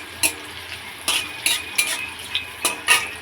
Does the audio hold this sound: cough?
no